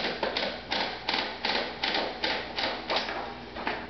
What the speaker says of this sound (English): That's how you use the Braille machine.